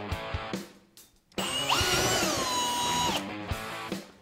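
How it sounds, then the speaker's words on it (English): A power drill whirs up to speed and bores steadily through a snowmobile sled frame for under two seconds, then winds down, with light handling clatter before and after. "You're going to go and drill that hole."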